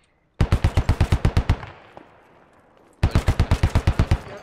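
Two rapid automatic bursts of gunfire in the SquadOps military shooter game, about a dozen sharp shots each, separated by a fading echoing tail and a short pause, loud and close with no talk.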